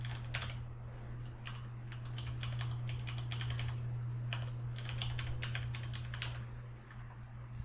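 Fingers typing an email on a computer keyboard, rapid clusters of light clicking keystrokes with short pauses between bursts, over a steady low electrical hum and no voices.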